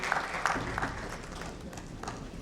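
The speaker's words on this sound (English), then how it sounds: "A big round of applause for Amit ji for his wonderful contribution in the panel." Audience applause for a panelist at a treasury transformation panel discussion, a moderate burst of clapping with a few sharper hand claps standing out, fairly even throughout.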